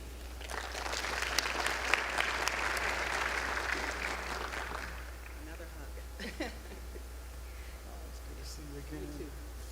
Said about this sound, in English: Please give them a hand.